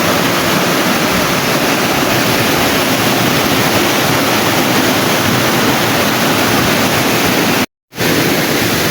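Lambingan Falls, a waterfall on a large river in the Philippines, roars as a steady, loud broadband rush close by, with one brief dropout near the end and no talk.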